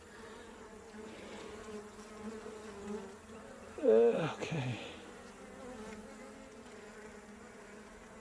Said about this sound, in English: there's a bee covering it